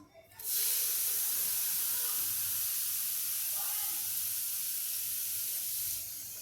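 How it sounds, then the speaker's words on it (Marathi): A loud, sudden hiss of water hitting a hot griddle (tava), sizzling steadily for several seconds before easing off, with no voices. "तव्यावर आधी काय करायचं थोडंसं पाणी टाकायचं"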